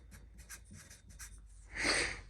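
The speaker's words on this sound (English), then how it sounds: "All I really got to do is write driver on this side" A marker scrawls on a steel roll-cage tube for a drag racing car, giving soft, faint rubbing strokes in quick succession, then a louder scratchy swipe near the end.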